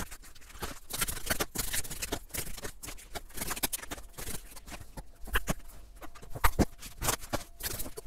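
A deck of 78 tarot cards is shuffled before a reading, giving quiet rapid riffling and patter in irregular bursts, soft and close, with no voices.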